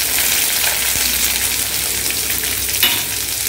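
Star anise and stone flower fry in hot oil for masala puri, giving a steady, close, even sizzle that runs throughout with no voices.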